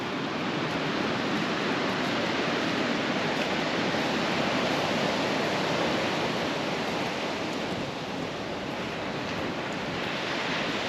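Constant roaring ocean surf at Rialto Beach, a broad, loud wash of breaking waves with wind, steady and unbroken throughout.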